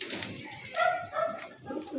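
A pigeon coos softly a couple of times, low and throaty, close by with faint background noise.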